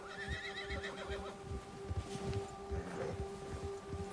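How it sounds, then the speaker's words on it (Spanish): Horse in Red Dead Redemption 2 whinnies and snorts after being spooked by a bear, with hoof clops and rustling in the game's outdoor ambience, a steady tone running underneath. "El oso asustó a tu caballo. Los caballos se ponen nerviosos."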